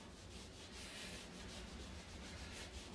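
A spare piece of foam rubbed over a surface, giving a soft, continuous scrubbing hiss in quick back-and-forth strokes, faint and close, no talk.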